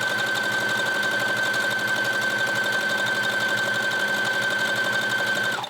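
A sewing machine stitches knit fabric in one steady, continuous run with a rapid even needle rhythm and a constant whine, close up and alone, stopping at the end.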